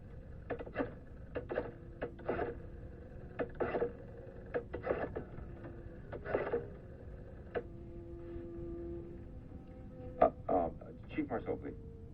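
A telephone is dialed to call the police in a 1977 television soap opera, giving quiet clusters of small clicks and ticks in an irregular rhythm, with short pauses between bursts, against a soft hiss.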